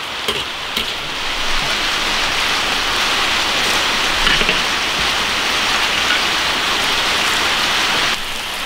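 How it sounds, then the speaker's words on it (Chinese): Steady rain falls in Foshan, a dense, even hiss of drops on surfaces that holds for about eight seconds and then eases slightly, with no voices. "我这边佛山又下雨了。"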